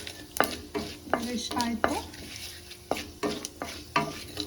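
Spices frying in a pan for egg curry, with a steady sizzle under repeated sharp scrapes and knocks of a spoon stirring against the pan, close and moderately loud; a voice speaks briefly.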